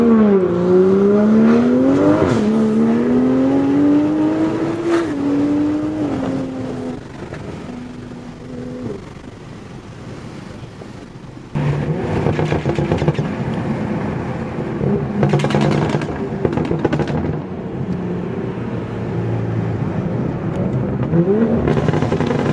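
A Toyota GR Supra (MK5 A90) engine roars as it accelerates hard with traction control on, pitch climbing through gear changes, easing off, then revving loudly again.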